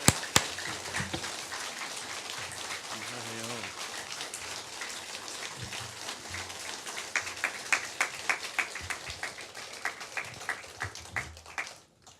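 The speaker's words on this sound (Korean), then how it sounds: "하나님께 영광의 박수를 돌립니다" Applause from a church congregation: a dense patter of many hands that gives way to slower, sharper rhythmic claps and then fades at the end.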